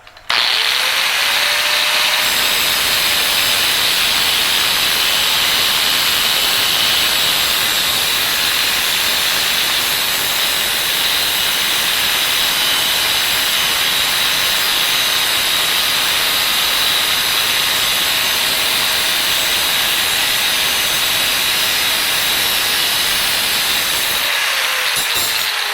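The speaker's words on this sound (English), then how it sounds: "Then we're going to take our cutoff wheel and cut the bolt off." A cutoff wheel slices through a bolt with a loud, steady high-pitched grinding hiss that runs unbroken for about twenty-two seconds, close up, then spins down and stops.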